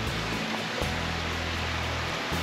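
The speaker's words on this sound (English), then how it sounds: "Creek's making some nice noises, creek sounds" Hurricane Creek in North Carolina running past wooded private properties, a steady close rush of flowing water that fills the whole stretch with an even hiss, with a low rumble underneath.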